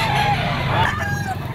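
A Sweater-bloodline gamefowl rooster, yellow-legged and eight months old, crows once, loud and close, at an outdoor pet market, with market noise murmuring underneath.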